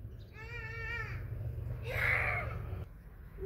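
A cat meows twice outdoors, a drawn-out wavering cry followed by a shorter, brighter one, heard close over low background noise.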